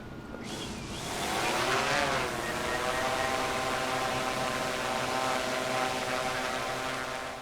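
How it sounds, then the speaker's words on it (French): A fixed-wing military drone in Ukraine drones with a steady buzzing engine tone that sweeps in pitch as it passes close by, then settles into a continuous whine. "On a le drone de type avion."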